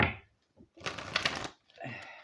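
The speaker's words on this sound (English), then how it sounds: "let's have one more shuffle" Oracle cards from a Beltane oracle deck being shuffled by hand, a few soft papery riffling bursts with brief pauses between, close and fairly quiet.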